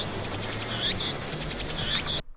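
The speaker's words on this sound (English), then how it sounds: "I need to turn these bloody cicadas down" Cicadas buzzing in the Steins;Gate video game, a loud continuous shrill drone with pulsing chirp swells repeating every second or so, ending abruptly.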